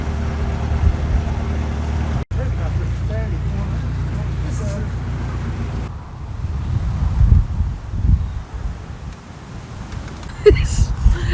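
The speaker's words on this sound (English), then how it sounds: "it's so windy here" Gusty wind beside a canal buffets the microphone with a low, rushing roar that dips briefly, then swells again in stronger bursts toward the end.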